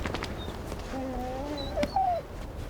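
Herding dogs working with Patagonian arrieros on a mountain-ringed plain, heard whimpering and yipping in thin, wavering whines at moderate distance over steady outdoor background noise.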